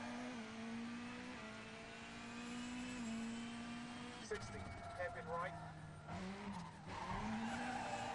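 A rally car in WRC 5 brakes hard and skids into a hairpin on Rallye Monte Carlo, engine droning and then dropping as tires squeal and scrub, with someone talking over it throughout.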